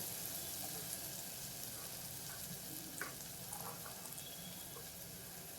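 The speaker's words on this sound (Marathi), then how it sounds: "आता हा कांदा मी इथे शिजवायला ठेवते" Onion cooks in a pan with a quiet, continuous frying sizzle, faint and steady, with a few small clinks and pops along the way and no talk.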